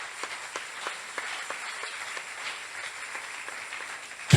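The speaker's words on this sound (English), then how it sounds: "Oh, you can clap." Scattered audience clapping at a prophet's sermon on love, individual claps ringing out at a loose, uneven rhythm over a quiet room, with a short louder burst at the very end.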